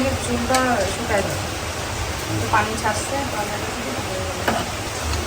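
Heavy rain keeps up a constant broadband hiss while people talk intermittently over the downpour.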